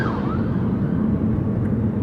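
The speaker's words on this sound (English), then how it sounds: "there's lots of sirens coming past." A siren wails faintly over the low rumble of a moving car's road noise, rising and falling in pitch.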